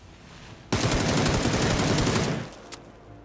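Sustained burst of automatic gunfire in PUBG, a loud close rapid rattle of shots lasting under two seconds, then a brief trailing echo and one faint single report.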